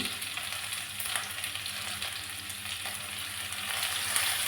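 Tomato, capsicum and onion frying in a pan for a paneer roll, giving a steady close sizzle and crackle with faint stirring, without any talk.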